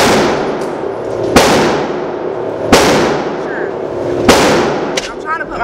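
Gunshots at an indoor shooting range, three or four loud, sharp, reverberant bangs spaced about a second and a half apart, close by, with faint talk between them.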